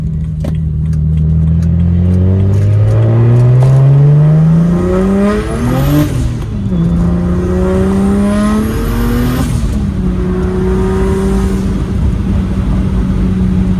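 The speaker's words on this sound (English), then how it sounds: "We're gonna go and jump on the freeway here and kind of let her get her opened up a little bit as she's warming up." A BMW 135i convertible with an N54 engine and single turbo accelerates on a freeway, the engine note climbing through gears in loud, close rising sweeps with shifts between them, under sustained road and wind noise.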